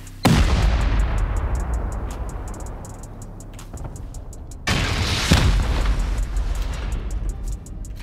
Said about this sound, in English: Only use two C4 and two rockets, so.